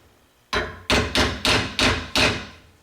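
A hammer taps a pin into a Camaro door hinge, six sharp, loud metallic strikes after a brief quiet start, evenly spaced with short ringing decays.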